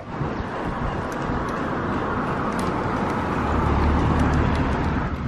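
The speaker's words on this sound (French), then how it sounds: "Oh, la circulation arrive. 2 voitures." Steady traffic din of cars passing on a street in Vientiane, Laos, a continuous close road rumble that swells slightly near the end, with no voices.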